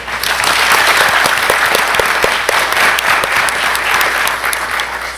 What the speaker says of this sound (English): Please stand up so we can clap for you.